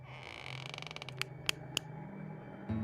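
A secret door in a video game creaking open as a long, rattling creak with three sharp clicks near the end, heard up close with no talking.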